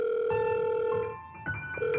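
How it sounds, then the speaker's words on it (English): A telephone on a pizza shop counter rings with bright electronic tones in two bursts separated by a short gap, close and clear with no speech. "I was about to go home when the phone on the counter rang."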